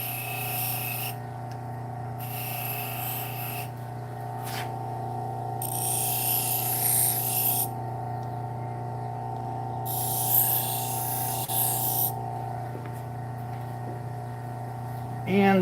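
A paring knife is drawn repeatedly across a sharpening stone in a run of rasping strokes, with pauses between them, all set against a steady low background hum.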